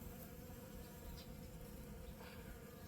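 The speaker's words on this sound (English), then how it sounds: "This is the first time I've ever seen bees on my cactus." Bees buzzing steadily around blooming Trichocereus cactus flowers, a continuous close insect drone with no voices.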